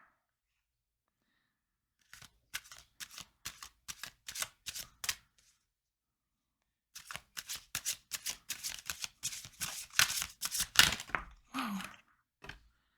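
Tarot cards are shuffled up close in two bursts of quick, crisp riffling and flicking, with a pause of silence between them.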